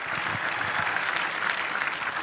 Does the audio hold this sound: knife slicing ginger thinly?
no